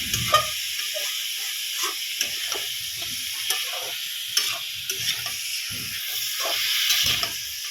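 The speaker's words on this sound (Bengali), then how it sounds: "এবার আমি একটু নেড়ে নেব।" Meat frying in a pan in a Bengali home kitchen sizzles and hisses steadily while a spoon scrapes and stirs it in repeated close strokes.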